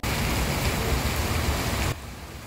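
Rain pours steadily at the Jombor bus terminal on the northern approach to Yogyakarta, a dense close hiss with low traffic rumble beneath, dropping abruptly to a softer, thinner patter near the end.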